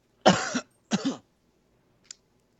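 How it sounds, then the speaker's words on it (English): Two quick, close coughs from one person during a casual online gaming chat, followed by a faint short click and then silence. "I heard you cough."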